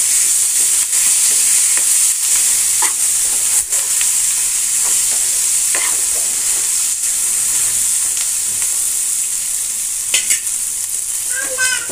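Masala frying in a pan for stuffed brinjal curry, with a steady hiss of sizzling oil and scattered scrapes and taps of a spoon stirring it, close and continuous, without speech.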